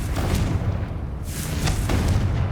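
A Confringo blast curse explodes in the video game Hogwarts Legacy, a loud, close, rumbling boom with a burst partway through over continuous combat noise, no talk.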